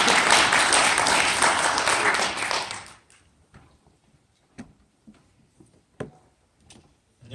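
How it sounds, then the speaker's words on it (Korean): Applause from the audience for students at an international appropriate-technology conference: loud, dense clapping for about three seconds, then stopping abruptly, leaving a quiet room with scattered taps and small knocks. "큰 박수로 학생들 받아주십시오."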